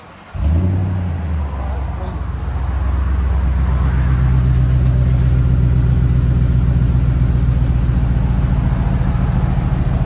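A 2020 Toyota Tundra 5.7L V8 with a Dirty Deeds exhaust cranks over and fires after a moment of quiet, then settles into a loud, steady, deep idle rumble close by. A voice is also heard.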